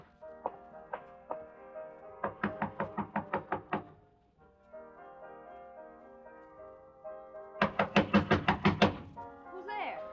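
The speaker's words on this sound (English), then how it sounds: "I waited for a few minutes after he left, and I walked up to her room and knocked on the door." Knocks on a bedroom door in a 1945 radio suspense drama, a few single raps then two quick bursts of six to eight sharp knocks, close and clear, with quiet pauses between and a voice murmuring faintly underneath.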